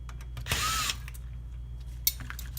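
A power screwdriver spins out screws from a Toyota Prius navigation unit circuit board: one short, close whir of about half a second, then a small click and quiet handling in an otherwise still room.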